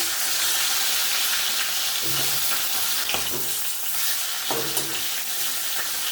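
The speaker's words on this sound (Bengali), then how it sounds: "তেল গরম হয়ে গেছে, মাথাগুলো একটু ছেড়ে দিই।" Hilsa fish heads sizzle and crackle in hot oil in a kadai, a steady bright frying hiss with a few soft stirring clinks and bumps breaking through.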